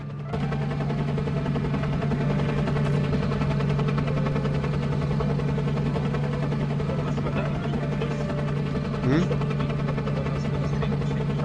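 Steady loud drone of a helicopter engine in the video game S.T.A.L.K.E.R.: Call of Pripyat, a constant low hum with a brief louder blip partway through, running the whole time with no speech.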